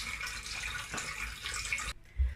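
Running tap water pours steadily over halved sweet corn being rinsed at a sink, a continuous splashing wash that cuts off abruptly near the end, followed by a brief low thump.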